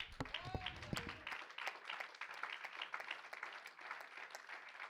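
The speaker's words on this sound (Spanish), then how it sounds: "Denle un aplauso al Señor Jesucristo." A church congregation applauds at an evangelistic Friday service, a steady wash of many hands clapping at moderate distance, with a voice heard briefly at the start.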